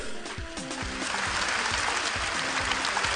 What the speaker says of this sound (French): j'ai besoin de chaleur, j'ai besoin d'applaudissements pour recevoir ici son Excellence Robert Begré Mombé